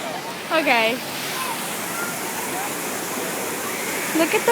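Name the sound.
waterfall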